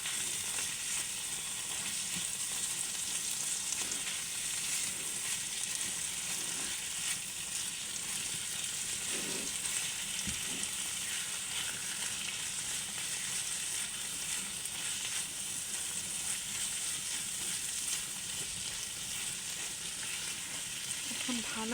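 Chepa dried fish paste sizzles steadily in a pan while being stirred, a continuous hiss with occasional soft scraping of the spoon, fairly quiet and close, with no talking.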